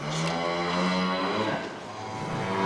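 Cattle mooing inside a cattle shed, one long harmonic low call filling the whole moment, loud and fairly close, with a slight dip before rising again at the end; no talking.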